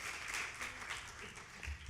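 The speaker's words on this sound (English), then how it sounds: "can we please have a huge round of applause for them?" A conference audience claps for a teen panel at an international event, a dense, fairly distant wash of applause that holds steady for the whole stretch.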